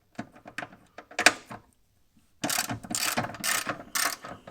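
A socket wrench with a deep socket ratchets 10 mm bolts off the side step bracket on a Jeep Wrangler JL. Short bursts of close metallic clicking come first, then a pause, then longer, louder runs of rapid ratcheting.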